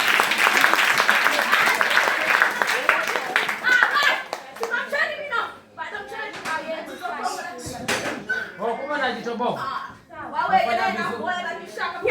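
A church congregation claps for Jesus during a Sunday sermon, bursts of dense applause and rhythmic hand claps mixed with loud voices and shouting from the crowd.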